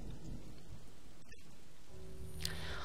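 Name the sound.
rain falling in the video game Home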